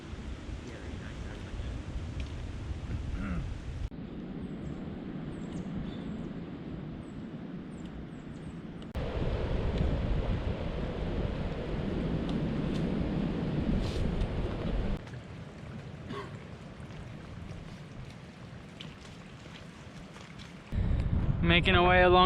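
Blustery wind gusting along the Appalachian Trail near Max Patch and Hot Springs in light snow flurries, a steady low roar that swells and drops in several loud bursts, with voices talking now and then beneath it.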